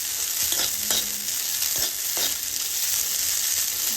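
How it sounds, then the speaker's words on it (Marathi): Fresh shelled green peas roast in a pan over a low gas flame, giving a continuous soft sizzle and crackle with a few faint scrapes of stirring, close and steady with no voices. "आता ह्यामध्ये मी एक पावशर मटार सोलून घेतले, ते ह्यामध्ये टाकते। आपले चांगले भाजून घ्यायचे ते।"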